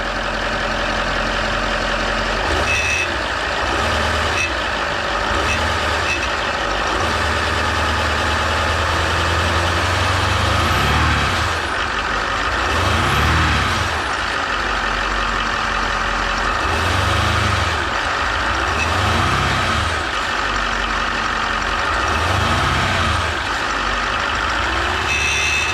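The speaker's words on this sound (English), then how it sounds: "Right, rev it up." Range Rover L405 engine running at close range during a charge intake valve replacement, a steady loud idle with several repeated swelling revs rising and falling through the middle of the clip, no talking.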